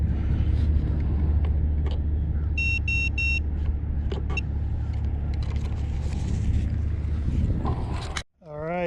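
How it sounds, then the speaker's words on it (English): FPV quadcopter drone fitted with Xing 2306 2450KV motors on an Armattan Titan frame, flying with a steady loud whirring drone that holds throughout, a few short electronic beeps partway through and a brief dip near the end. "The new Xing motors. They sure are pretty and they sound quiet."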